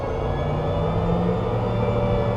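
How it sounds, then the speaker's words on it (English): Tank gas turbine engine running, a steady, loud whining and rumbling drone with a constant high whistle, unbroken and close. "So what you're hearing right now is the turbine sound of the engine."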